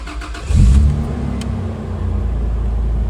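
A restored 1980 Toyota Land Cruiser FJ40 with a fuel-injected 4.5L 1FZ-FE engine and 5-speed gearbox. It gives a short, loud rev early on, then settles into a steady, close idle rumble.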